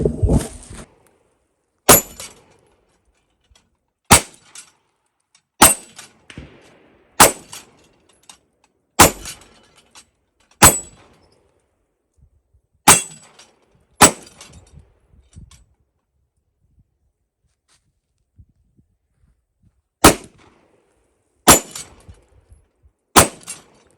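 Sharp, loud shots from a PSA Dagger 9mm compact pistol at a shooting range, about fourteen reports fired singly at irregular intervals with quiet gaps between, a longer pause midway through the string.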